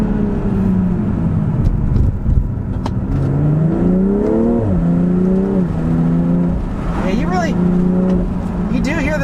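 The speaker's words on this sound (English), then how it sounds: "You do hear the turbo" A 2020 BMW M340i xDrive accelerates in manual mode with the window down, its turbocharged engine climbing through revs, dipping at shifts and rising again, loud and close, with a voice talking over part of it.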